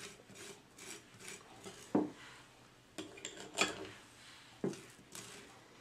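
A knife scrapes butter across a toasted English muffin, quiet rasping strokes broken by a few sharp clicks of utensils against a plate, with no talk.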